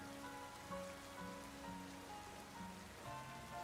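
Steady rain patters in the video game Pokemon ZA, a soft continuous hiss of drops beneath gentle looping background music with plucked melodic notes, quiet and without voices.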